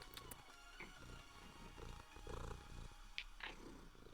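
A cat named Yumiko purrs softly and close, a low continuous rumble with a couple of brief higher squeaks over quiet background.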